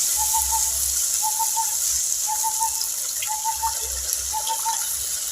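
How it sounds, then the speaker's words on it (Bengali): A steady gush of water pours continuously into a pan of fried spice paste for fish curry, with a faint rhythmic beeping in the background. "এবার দিয়ে দেব জল"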